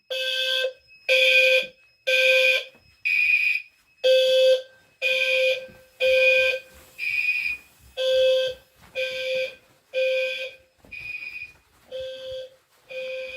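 A loud Silent Knight SK 2 fire alarm system blares in regular pulses during a test, about thirteen sharp electronic bursts with short gaps between them, ringing through the space with no voices.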